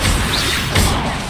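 A cast of the Expelliarmus disarming spell in Hogwarts Legacy, a dense burst of crashing, whooshing magic with a second thudding impact swelling near the end, loud and close with no talk.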